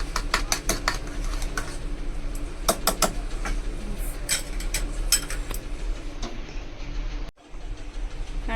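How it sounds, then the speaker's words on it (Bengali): Whipped cream being mixed into a dish for a quick dessert, with repeated sharp clinks and scrapes of a utensil against the bowl, fairly close and steady, over a constant low background hum. "এবার আমি এটার ভেতরে ক্রিমটা মিশিয়ে নিলাম"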